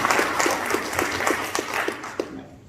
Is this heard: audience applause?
yes